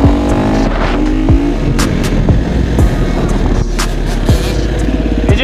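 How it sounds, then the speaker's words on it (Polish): Enduro motorcycles rev loudly and close by, their engines rising and falling in repeated throttle blips over a constant rough idle, with no voices over them. "To jakie fajne motory."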